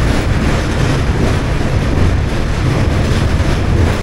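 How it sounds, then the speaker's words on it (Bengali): Train pulling out of Kharagpur Junction station, heard from on board as a steady, loud rolling rumble with broadband rattle and wind noise throughout, no voices. "এখন ট্রেনটা বেরিয়ে যাচ্ছে খড়গপুর স্টেশন"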